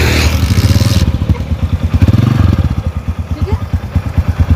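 A motorcycle engine clatters in a fast, loud, even pulse right after being kick-started with the clutch released, with a brief rough scrape near the start.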